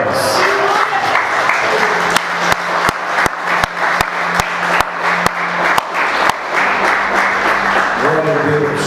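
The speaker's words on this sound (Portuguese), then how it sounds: "Vamos aplaudir ao Senhor que Ele merece" A church congregation applauds in dense, steady clapping that fills the space, with sharp individual claps standing out and voices mixed into the crowd sound.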